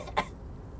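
A single short cough from a character in the video game Disco Elysium, one quick burst near the start followed by quiet.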